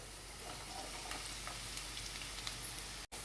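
Chopped capsicum frying in a pan with onions for spicy cauliflower manchurian, giving a steady, close sizzle throughout with a momentary dropout near the end.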